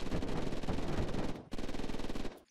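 Rapid automatic gunfire hammers a generator in the Unturned video game, two loud sustained bursts of fast, even shots close up, split by a brief pause.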